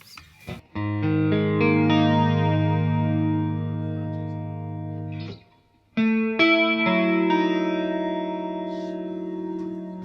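A sustained, distorted guitar chord rings out with a sweeping, swirling modulation, cuts off briefly, then a second chord sounds with the same whooshing effect.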